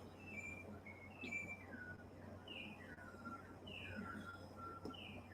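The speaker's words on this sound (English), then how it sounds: "I don't know if you can hear that bird" Small birds chirp outdoors in the early morning, repeated short whistled calls and tweets coming in quick succession over a steady low background hum, moderately close and clear.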